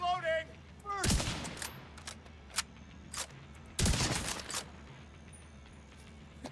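Video game gunfire rings out in two loud bursts of rapid shots with scattered single cracks between them, while a voice talks briefly at the start.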